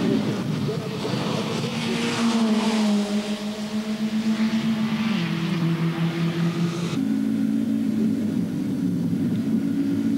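Group N race cars from the 1991 German season scream past in close battle, a VW Polo chasing a Fina-liveried car, engine notes rising and falling steadily under continuous commentary.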